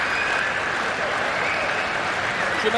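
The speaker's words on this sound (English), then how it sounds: "Crowd showing their appreciation" Spectators in the Wheelchair Arena at the ABN AMRO Open applaud a long wheelchair tennis doubles point, giving off a steady, full wash of clapping that holds evenly from start to finish.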